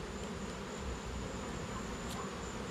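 Honeybees buzzing around an outdoor cable box at sunset, a steady, soft insect drone with a thin high whine running throughout, fairly faint and continuous with no voices.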